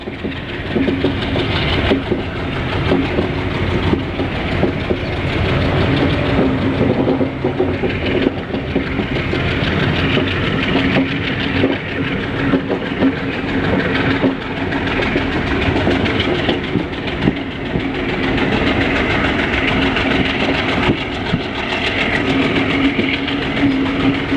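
Circar Express train hauled by a WDP-1 diesel locomotive on the Visakhapatnam–Vijayawada main line near Samalkot Junction, heard from onboard as a continuous loud rumble with rhythmic clickety-clack of wheels and steady engine drone, no talk.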